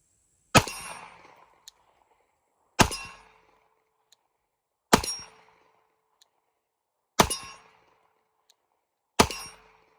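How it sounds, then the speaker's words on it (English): A Glock 19X with a mounted light fired at a steel target outdoors: five evenly spaced shots about two seconds apart, each a sharp crack followed by a ringing metallic clang that decays quickly. "Take 5 more shots, see if we can keep them on the steel."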